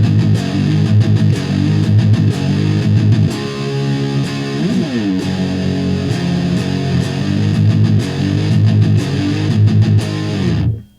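Electric guitar running through the drive circuit of a Moog MF-102 ring modulator into a Marshall amp, giving a fuzzy, bassy overdriven tone; loud steady chords and a bending lead phrase, then a sudden stop.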